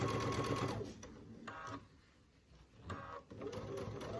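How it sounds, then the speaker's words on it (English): A sewing machine stitches down binding on the back of an heirloom quilt, its motor whirring in bursts with short pauses between runs, close and steady, no talk. "I'm going to start stitching it down."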